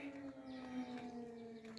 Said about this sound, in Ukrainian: Повітряна тривога